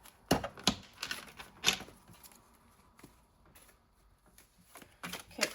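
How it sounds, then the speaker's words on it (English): Tarot cards are shuffled on a glass table in quiet, intermittent bursts of crisp riffling and clacking, close by with pauses between. "I'm going to try to shuffle quietly because I know my glass table can be loud."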